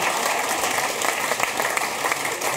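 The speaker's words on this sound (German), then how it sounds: "Könnt ihr klatschen mal?" Cabaret audience clapping in a courtyard, a steady full wash of applause from a crowd throughout, fairly loud and close.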